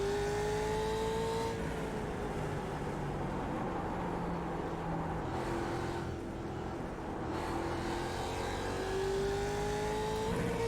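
Lap cars at a race track drive past one after another, their engines rising and falling in pitch as each car approaches and fades, with a steady roar underneath.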